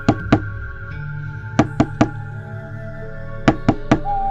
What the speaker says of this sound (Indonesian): tiba-tiba terdengar suara ketukan pelan